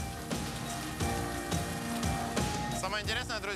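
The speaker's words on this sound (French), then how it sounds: "Pluie de méduses." Dense wet splattering, like heavy rain pelting a surface, as jellyfish fall from a lifted net, runs steadily throughout, with a voice rising over it near the end.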